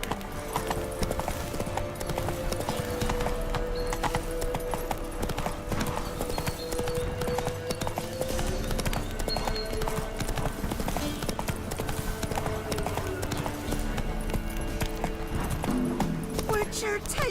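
Hooves of the horse Roach clip-clop in a steady galloping rhythm through The Witcher 3, continuous and close under game music, with a voice talking over it.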